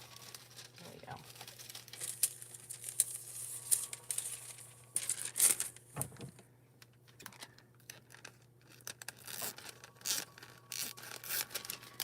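Gold foil being handled and crinkled, quiet irregular crackles and rustles in bursts over a faint steady hum, with a sharper crunch partway through.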